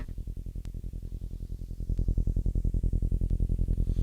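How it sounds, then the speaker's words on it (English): Deep, pulsing bass synth playing a fast, steady repeated pattern that grows louder midway, alone with no voices. "That is the SCAT bass synth,"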